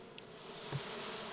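Honey bees buzz around a hive of roughly 20,000 bees, a faint steady hum spread evenly through the short stretch.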